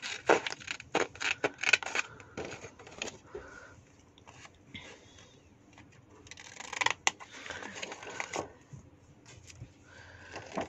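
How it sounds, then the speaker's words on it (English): Cutting small rectangle pieces off a paper box with irregular crisp snips and crunchy cuts in clusters, separated by quieter stretches of light handling noise. "you're going to cut these little rectangle pieces off."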